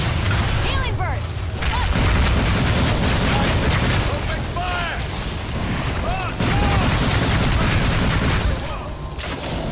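Sustained gunfire rattles through a fight in the video game Evolve, steady, loud and near, mixed with booms and mechanical clatter, while voices and short chirping effects sound over the top.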